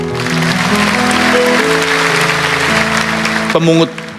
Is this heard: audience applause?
yes